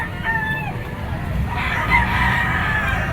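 Roosters crow and chickens cluck at a busy poultry market in Padre Garcia, Batangas, one crow early followed by a fuller overlapping crowing call, over a dense crowd murmur.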